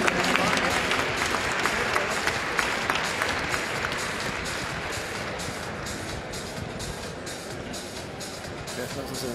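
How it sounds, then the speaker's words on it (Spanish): Audience applause at a NABBA Mister Jalisco 2023 bodybuilding competition, masters over 40 category, with dense sustained clapping filling the hall, loud and continuous throughout while crowd noise carries underneath. "fuerte el aplauso para ellos"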